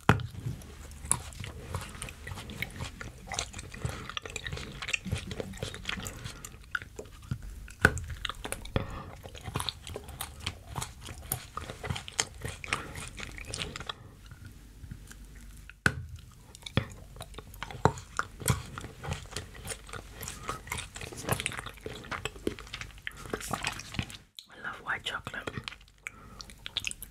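Biting and chewing a realistic edible chocolate phone shaped like a Pixel 4, close-up crunches and chewing sounds in a quiet setting with soft whispering throughout.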